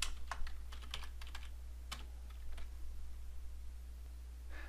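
Computer keyboard keys tapped in short bursts of clicks, near but quiet over a steady low electrical hum, with no voices.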